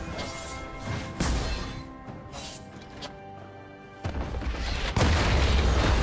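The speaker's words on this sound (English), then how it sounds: "team's turret has been destroyed." A defensive turret collapsing in a League of Legends match: a run of heavy crashing booms and smashing impacts, loud and close, with a big final burst near the end.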